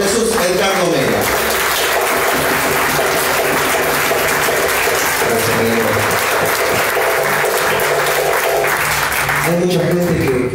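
Loud, sustained applause fills a tango milonga at El Beso as the crowd claps for a musician playing with a tango quartet, with someone speaking just before the clapping swells and again as it ends.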